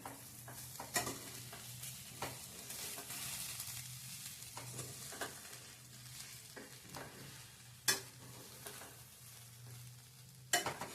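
Poha being stirred in a pan after salt goes in, a steady soft sizzle with scraping spoon strokes and a few sharper clinks against the pan, close and continuous, no voices.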